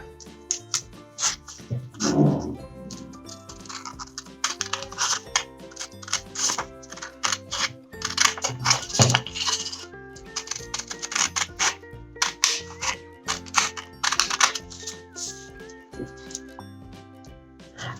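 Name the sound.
cutting paper lines for straw gliders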